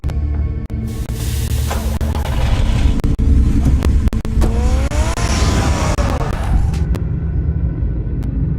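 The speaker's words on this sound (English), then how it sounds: "Get the car ready, Alfred." Loud car engine revving and roaring in a Batman video game, steady and close throughout, with tires squealing and a rising whine midway.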